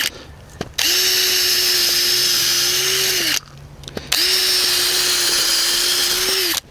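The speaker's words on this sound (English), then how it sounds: "You can see how fast it just drills into the ground there." A Power Planter auger drill boring into the ground: two loud, close, steady motor whines of roughly two and a half seconds each, separated by a brief pause with a few clicks.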